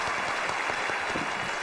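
Steady clapping from a studio audience at a televised talent segment of a job-seeking show, sustained and evenly dense, fairly loud, with no talk over it.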